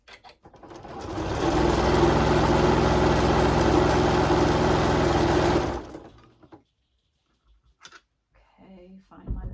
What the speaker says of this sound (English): We're going to start at that corner and stitch to the top.